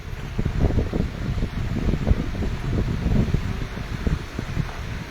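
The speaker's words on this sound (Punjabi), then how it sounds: "ਪਾਣੀ ਦੀ ਆਵਾਜ਼ ਤੁਹਾਨੂੰ ਜ਼ਰੂਰ ਆ ਰਹੀ ਹੋਵੇਗੀ ਪਾਣੀ ਤੇਜ਼ ਬਹੁਤ ਹੈ" Rushing floodwater of the swollen Sutlej river, a steady broadband roar with wind buffeting the microphone, continuous and fairly loud with no voices.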